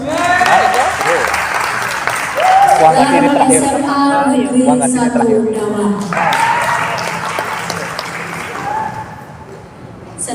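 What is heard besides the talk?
audience applause at a school debate final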